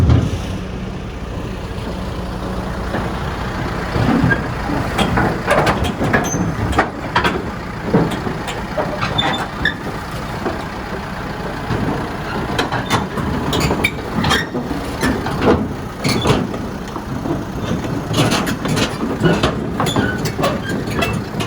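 A retriever truck drives off after loading, its heavy engine giving a steady, loud mechanical rumble with scattered clanks and rattles throughout, with no talking.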